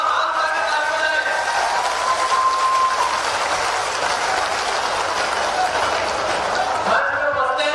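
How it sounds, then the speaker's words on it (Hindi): A large crowd at a college building inauguration in Jawa, Rewa applauds in a sustained, rain-like wash. A voice speaks over the clapping near the start and again at the end. "आप लोग एक बार जोरदार तालियों से यहाँ पर स्वागत करें"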